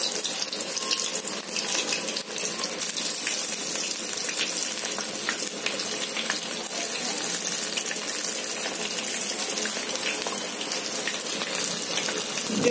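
Masala-coated cauliflower frying in hot oil gives a steady, close, hissing sizzle that stays even and bright throughout, with no talking over it.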